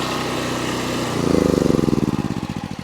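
A Predator 4400 watt inverter generator running near and loud, its steady engine drone shifting into a pulsing, throbbing rhythm as the load is unplugged.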